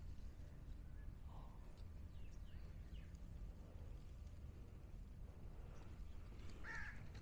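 Crows call a few times at the Khor Kalba mangrove centre, mostly faint and distant, with one clearer caw near the end over steady outdoor background noise.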